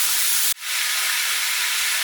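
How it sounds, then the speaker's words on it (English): Pork and vegetables frying in a pan for a pork and pineapple stew, a loud, continuous sizzling hiss that cuts out briefly, then comes straight back at full strength, with no talking. "Keep stirring and frying it to get the vegetables nicely mixed in."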